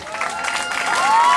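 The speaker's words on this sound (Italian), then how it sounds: "un bel applauso per loro" Crowd applause and some cheering at a Miss pageant evening in Italy, a brief, loud burst of clapping with whistle-like tones rising over it.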